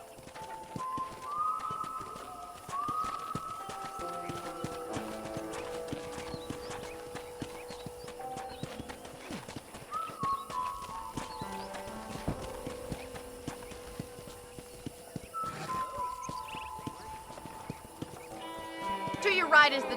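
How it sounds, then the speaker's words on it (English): Hooves clip-clop steadily as a horse is ridden in the Red Dead Redemption video game, with a soft melodic score underneath and a brief whinny-like sound near the end. "let's see if you can still ride a horse"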